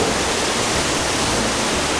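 Steady rushing water from a log flume ride at Busch Gardens Tampa, a dense even roar with no breaks, loud and close throughout.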